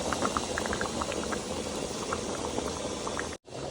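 A pot of onions simmers with a steady, close bubbling and boiling, dense and continuous, broken by a brief cut near the end.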